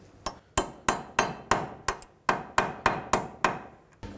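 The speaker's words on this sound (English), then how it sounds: "Let's bend the axle nut in a little bit to lock it in." Roughly a dozen sharp metal hammer strikes come at a steady, fairly quick pace while an axle nut is staked into the hub of a 2001-2007 Toyota Highlander, close and moderately loud with nothing else heard.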